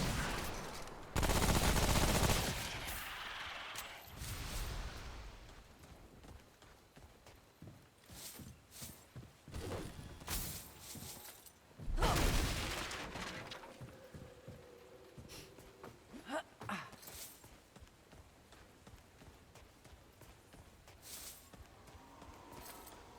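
Gunfire in the video game Remnant, heard as scattered loud shots and short bursts spread across the stretch, with quieter footsteps and clatter between them.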